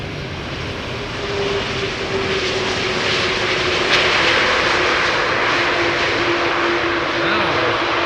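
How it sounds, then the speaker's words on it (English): A Turkish Airlines Airbus A330-300 landing at Amsterdam Schiphol gives a steady, loud jet engine roar that holds throughout, with a faint whine on top and some voices in the background. "This is Turkish Airlines flight 1957. A330-300 arriving from Istanbul."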